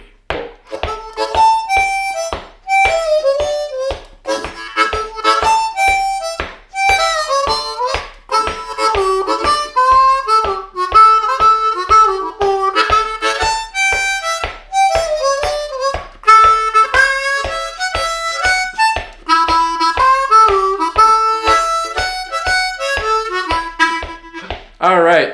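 Solo D harmonica in second position plays a bouncy boogie tune, close and loud, with rapid chugging rhythmic breaths and wailing bent notes that run continuously.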